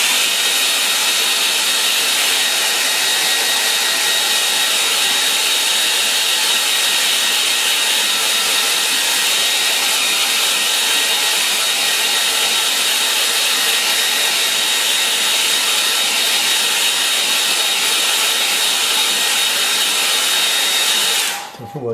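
Hair dryer used to dry a wet watercolour painting: a loud, steady, close whooshing blast that holds constant for over twenty seconds, then cuts off at the end.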